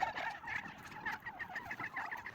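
Roosters call repeatedly in a rapid, rattling gobble-like chatter, moderately close with no other sounds.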